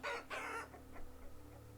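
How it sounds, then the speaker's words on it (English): Chickens in the survival video game Vintage Story give a couple of loud, close clucks, followed by softer, fading clucking calls over a low background hum. "we're going to have a look at the chickens for starters"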